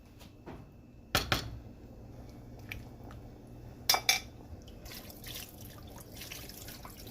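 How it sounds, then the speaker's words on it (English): Water trickles and splashes into a pot of ogbono soup, with a couple of sharp metallic clanks from cookware and quiet kitchen background. "Just going in with some more water."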